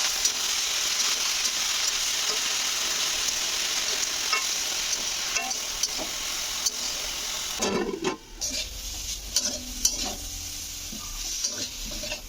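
Mixed leafy greens sizzle and crackle as they fry in a pan seasoned with dried chilli and nigella seeds. A steady, loud hiss runs continuously, with a brief stirring scrape partway through and lighter clinks afterward.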